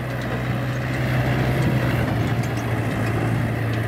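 An old tractor engine, about thirty years old, rumbles steadily while hauling 90 quintals of soil, a continuous low drone with no breaks.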